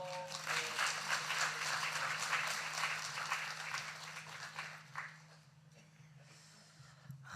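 A church congregation applauds after a blessing prayer during Sunday worship, with soft, even clapping that fades toward the end under a low steady hum, fairly quiet and distant.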